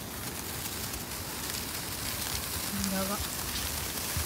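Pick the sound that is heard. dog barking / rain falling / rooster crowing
rain falling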